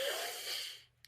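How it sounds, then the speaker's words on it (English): A single deep breath taken close to the microphone: a breathy inhale rising and fading over about a second, followed by a tiny click, with no talking. "Time for a good deep breath."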